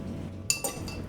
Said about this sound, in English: I'm gonna grab some ice to toss in there and we'll give it a stir.